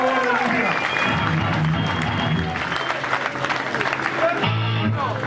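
Audience at a heavy metal concert applauding and cheering, a dense, steady crowd wash filling the whole stretch, with a voice speaking through it over a PA.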